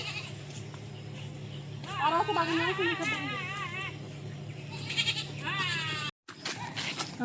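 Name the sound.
goats bleating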